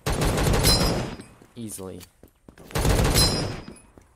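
Loud rapid gunfire from a semi-auto gun in a video game comes in two dense bursts separated by a short spoken word in between.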